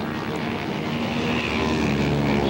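A dirt-track racing motorcycle at a 1992 half-mile race in Springfield, Ohio, screams near 8,000 RPM, a loud, sustained, steady engine roar that holds without a break.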